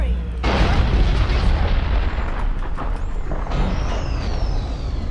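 A deep, booming Reaper horn from the Mass Effect 3 game blares loud and sustained across the whole stretch, swelling in two long waves over a rumbling battle bed with faint voice underneath.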